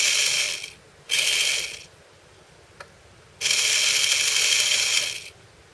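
RC4WD D90 G2 1:18 scale RC truck drive train whirring in short bursts as it shifts between forward and reverse, three loud high-pitched mechanical runs separated by quiet pauses and a single small click.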